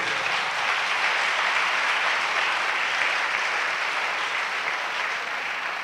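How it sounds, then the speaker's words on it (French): A church congregation claps for God in sustained, dense applause that fills the room evenly and loudly from start to finish, with no voices standing out. "Clap for God if you want to clap."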